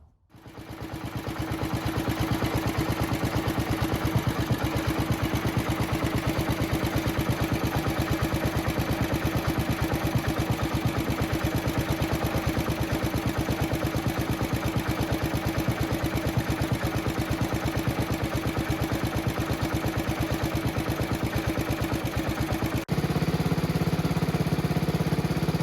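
A small engine runs steadily after repair and a fuel leak check, a loud, even, rapid chugging idle that holds for the whole stretch with a brief dip near the end, alone without talk.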